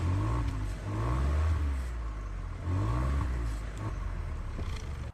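A Ford Puma facelift, a 2024 small SUV, revs its engine in two loud rising bursts through the exhaust, settling back to a steady idle between them, recorded close up with nobody talking.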